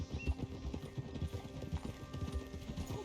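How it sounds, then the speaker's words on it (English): Horse hooves clip-clopping steadily in Red Dead Redemption 2, a close, regular rhythm of hoof falls over a low in-game ambience, with no talk. "Get a hold of that horse, will you?"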